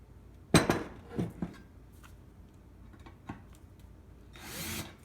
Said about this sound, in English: if I'm drilling this way